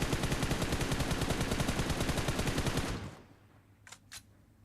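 Rapid automatic gunfire in PUBG Mobile, a loud, steady stream of close shots lasting about three seconds, then stopping abruptly, followed by two faint sharp clicks.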